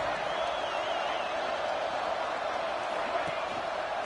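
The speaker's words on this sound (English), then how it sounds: "Listen to the crowd energy here in the early going." Dense, steady stadium crowd roar from the College Football 26 video game fills the whole stretch at an even level, a wash of distant cheering noise with no distinct breaks.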